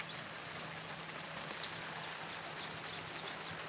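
Steady rain pouring down outdoors, a dense continuous hiss of drops throughout with a faint low hum beneath, no voices.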